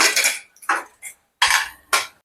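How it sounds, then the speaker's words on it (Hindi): A pressure cooker lid is opened after cooking masoor pulao with rice and potatoes, giving a few sharp metallic clanks and short hissing bursts separated by brief silences. "तो हम कुकर का ढक्कन खोलेंगे।"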